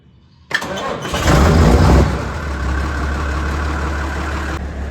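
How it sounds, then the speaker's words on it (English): A diesel farm tractor engine cranks and fires up, roaring loudly at close range before settling into a steady, rumbling idle. "So we gotta fire this tractor up"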